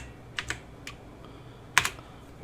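A few crisp computer keyboard keystrokes typing a number into an offset field in desktop publishing software: a pair of clicks, a single tap, then another close pair, alone in a quiet room.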